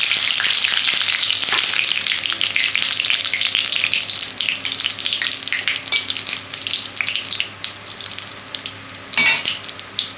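Bay leaves and whole garam masala sizzle and crackle in hot mustard oil while dahi chicken is cooked, a steady close frying hiss that lasts throughout, with a brief louder burst of spattering near the end.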